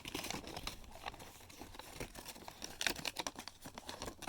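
Origami paper being folded and creased into a pyramid gives off quiet, close crinkles and crisp little crackles in uneven bursts, with no voices.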